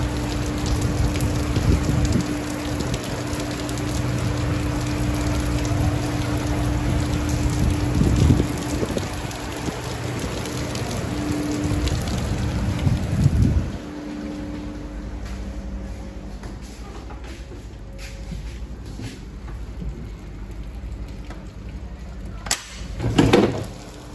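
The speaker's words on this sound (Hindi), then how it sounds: "बारिश" Heavy rain pours at a marble factory, a dense steady wash of noise that is louder for the first half and then thins out, with a few sharp knocks near the end.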